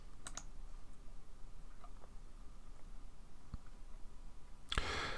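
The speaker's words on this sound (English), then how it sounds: "And then I'm going to click on Save." A few sharp computer mouse clicks on a desk while saving work in an app builder, crisp and close, scattered singly with quiet gaps and a louder rattle of clicks at the end.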